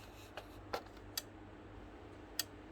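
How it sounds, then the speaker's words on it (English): Several sharp, separate clicks spaced irregularly over a low steady hum, an APC UPS relay snapping on and off at close range as a fault symptom. "You can hear the relay just clicking"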